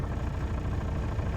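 A Ford Capri, freshly painted and fitted with an X-pack body, idles steadily at close range after a drive, a low even engine rumble running unbroken with no talk over it.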